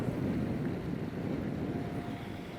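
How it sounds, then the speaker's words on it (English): An ocean breeze blows across a bay, heard as a steady, close, broad rush of wind buffeting the microphone. "Can you feel the ocean breeze?"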